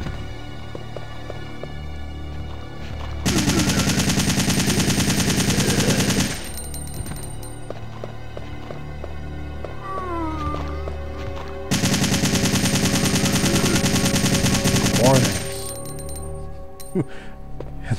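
Two loud bursts of rapid automatic gunfire from the video game Resident Evil 3 hit a fat zombie, with clinking shell or coin-like sounds and game effects between the volleys.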